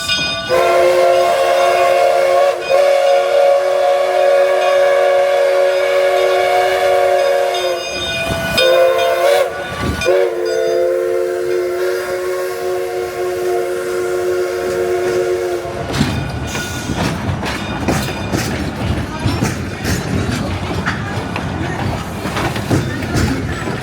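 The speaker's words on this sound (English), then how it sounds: "I do think I hear that train calling in the distance." An Oregon Coast Scenic Railroad train horn blows long and loud in sustained blasts, then gives way to the heavy rumble and clatter of the passing train.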